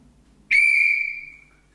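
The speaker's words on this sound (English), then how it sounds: "I'm going to blow the whistle every 30 seconds." A seminar presenter gives a single sharp blast on a whistle. The clear, loud tone starts abruptly and holds for about half a second before fading out, alone in a quiet room.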